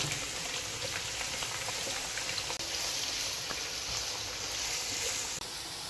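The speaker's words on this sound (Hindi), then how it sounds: "प्याज जो है हमारे फ्राई हो गए हैं।" Onions sizzle in hot oil in a pan, a steady crackling hiss with fine spattering pops, continuous and fairly close throughout.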